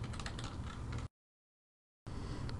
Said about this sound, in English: And this is going to be just a lot of typing here.